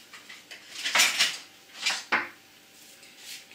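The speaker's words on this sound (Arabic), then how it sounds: "دابا غادي نبدا كنحرك" A utensil stirring a fresh cream mixture in a bowl, giving a few close, uneven scraping and clinking strokes, with short pauses between them.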